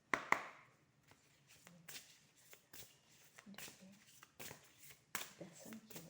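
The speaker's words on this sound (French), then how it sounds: "Donc je vais tirer une carte" Oracle cards being shuffled by hand and one drawn, giving a series of soft papery riffles and taps with short pauses between them, fairly close and quiet.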